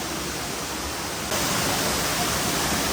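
Rushing water of a waterfall display at the Guinness Storehouse in Dublin, a dense steady hiss that grows louder partway through and continues with no voices.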